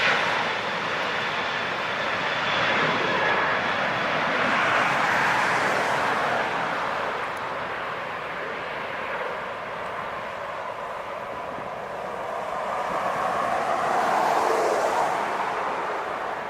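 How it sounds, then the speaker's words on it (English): An Emirates Airbus A380 takes off at Los Angeles International Airport, a steady, broad jet roar that swells, eases slightly, then builds again as the aircraft climbs away, heard from a distance with no voices. "Next up is the big bad A380 Emirates"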